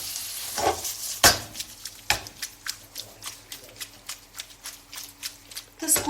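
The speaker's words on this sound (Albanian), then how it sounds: "të skuqet të paktën për 5 minuta" Small tomatoes frying in a pan, a soft sizzle under a run of rhythmic scraping and tapping strokes from stirring, close and fairly loud, with a few sharper knocks.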